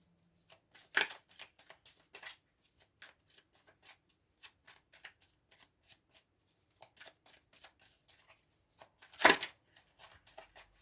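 Tarot cards shuffled by hand for a reading, a quiet run of crisp riffling flicks and taps in an irregular rhythm, with two sharper louder bursts, close by and with no talking.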